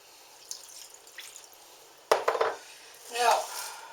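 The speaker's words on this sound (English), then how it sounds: "Add the water." Water poured into a pan holding a burger, a sharp metallic knock followed by a short splashing pour that swells and fades, close and fairly quiet, with no voices.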